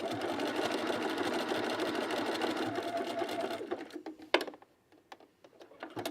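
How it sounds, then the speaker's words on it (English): A sewing machine hums with rapid steady stitching as it re-sews the bottom of a buttonhole on a pajama top, running continuously for several seconds before stopping, followed by a few faint clicks and handling noises. "So I'm just re-sewing the bottom of my buttonhole."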